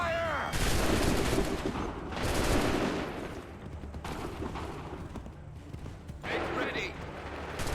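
Musket volleys crack out in Assassin's Creed 3 as a line of soldiers fires on command, with several loud, rolling bursts of gunfire and shouted orders between them.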